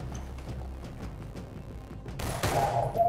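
Gunfire in the video game Battlefield 3 erupts near the end as a loud, sudden burst after a quieter stretch of faint ambient battle noise and scattered distant shots.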